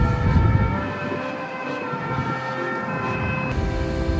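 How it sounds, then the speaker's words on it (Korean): A police siren wails steadily through loud street noise in Belgium, its tone holding for several seconds as the police car passes. "또 지나가는 경찰차."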